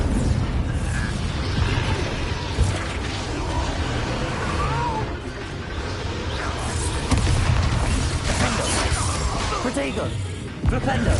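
Bombarda blasting spell in the game Hogwarts Legacy, heavy booming explosions layered with dense battle noise and shouted voices, loud and continuous throughout.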